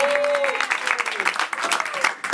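A crowd claps steadily, with a voice calling out over the applause near the start.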